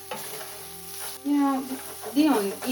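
Fresh herbs fry in a stainless steel pan with a constant crackling sizzle, while a voice talks over it in short bursts.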